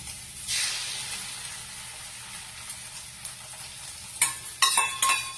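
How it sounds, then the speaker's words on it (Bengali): Eggs frying in oil in a pan, a continuous close sizzle with a brief steam burst early on and several sharp spatters and stirring clatters toward the end. "এই ডিমটা ভাজতে ভাজতে মাঝখানটা ফাঁকা করে আমি আর একটা ডিম দিয়ে দিচ্ছি"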